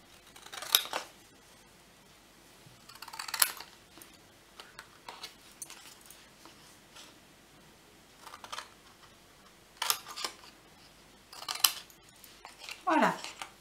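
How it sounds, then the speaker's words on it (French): Scissors cutting through cardboard for a small rectangular box, heard as a few separate bursts of crisp, close snipping with quiet pauses between them. "Et on vient couper à l'intérieur de notre petit carré pour former un petit biais."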